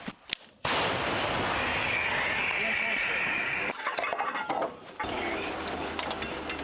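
A sharp, booming howitzer blast erupts early, followed by a long roaring rush and echoing rumble outdoors, with brief voices and clatter afterward.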